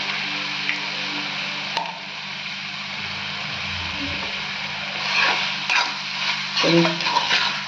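Chicken thokku simmers in oil over a low flame, giving a soft, steady sizzle with a few quiet clinks and stirring scrapes near the end.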